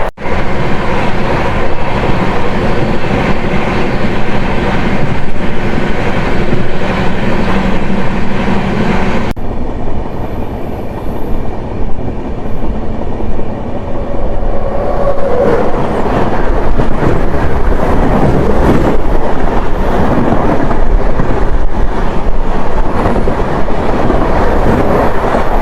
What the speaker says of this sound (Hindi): India fastest train Gatimaan superfast express departing from Agra cantt